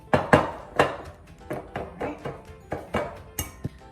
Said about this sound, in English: While I was pounding away